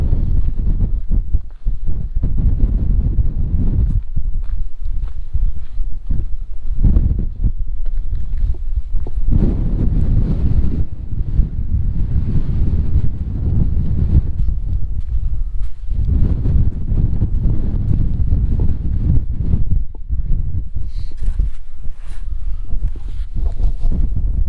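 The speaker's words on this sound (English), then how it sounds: "it's another wet and windy day on the mountain" Steady, heavy wind roars and buffets the microphone on An Teallach in the Scottish Highlands on a wet day, a constant low rumble with gusty surges and no voices.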